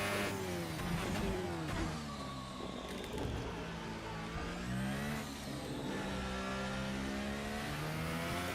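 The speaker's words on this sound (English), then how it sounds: "Squeeze the gas back onto this long straight." F1 car engine in a racing video game at the Chinese Grand Prix, climbing steadily through the gears with rising, whining pitch sweeps on a long straight, loud and continuous throughout.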